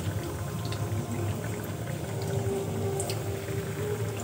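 Chira (flattened rice) snacks frying in hot white oil over low heat give a steady bubbling sizzle, continuous and close, with a few faint pops and no talk.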